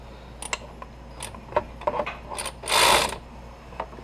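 Clicks from a ratchet, irregular and sharp, turning a bolt on a clutch fan bearing assembly for a VW Passat or Audi A4, followed by a brief louder rasping burst and a final click, close up.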